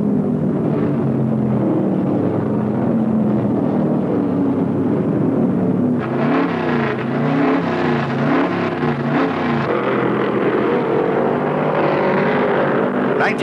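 Stock car engines roar steadily at the 1971 Virginia 500 on the Martinsville oval, loud continuous droning with a swell of passing cars partway through.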